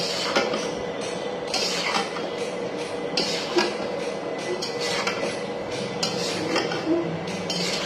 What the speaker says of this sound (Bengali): মশলাগুলোর সাথে আমরা আমগুলোকে এখন নাড়িয়ে চাড়িয়ে একটু ভেজে নেব।